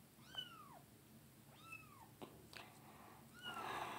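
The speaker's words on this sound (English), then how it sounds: "My cat is meowing because I shut the door because he is meowing way too much" A pet cat meows from behind a shut door, three drawn-out, falling meows spaced across a few seconds, moderately close and clear over a quiet room, with a couple of small knocks between them.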